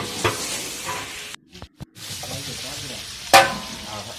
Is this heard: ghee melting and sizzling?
yes